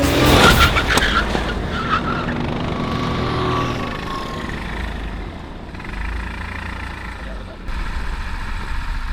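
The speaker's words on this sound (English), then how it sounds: "Nothing beats the pure handling of a go-kart and being just inches from the tarmac." Go-karts racing on the tarmac Paul Ricard circuit; loud, close engine roar and skidding tires at the start, then a steady high-revving drone that fades a little and swells again.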